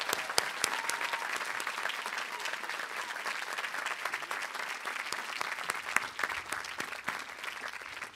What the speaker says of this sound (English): Can I have another big round of applause for all of our retiring faculty?